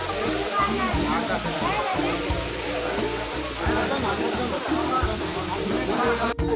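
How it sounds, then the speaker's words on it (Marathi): A fast-flowing stream at Tirupati, a continuous loud rushing of water throughout with people talking over it. "पाण्याचा वेग पण बघा"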